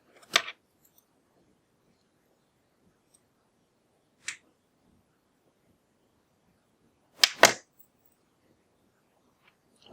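Scissors trimming along the edge of a lace closure give a few sparse, crisp snips spread out across a quiet stretch, one near the start, one in the middle and a close double snip later.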